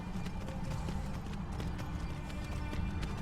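A horse in Skyrim trots with a steady, rhythmic clip-clop of hooves, close and continuous over a low rumbling game backdrop.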